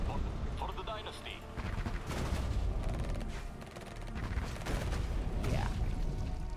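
Rattling bursts of gunfire and explosions in the real-time strategy video game Tempest Rising, dense and continuous with swelling battle noise, while a voice talks over the fighting.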